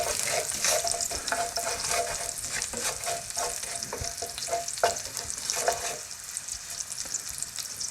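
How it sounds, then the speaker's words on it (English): About a teaspoon of cumin seeds sizzles steadily in a hot pan while chicken madras is being made, giving a close, continuous crackling fry with scattered pops and faint stirring scrapes. "So I'm putting approximately a teaspoon of cumin seed in. As you can see, it's virtually sizzling straight away."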